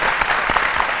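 A brief burst of dense studio-audience clapping on an Ivorian television midday show, applauding a reggae singer; steady and close for the whole second.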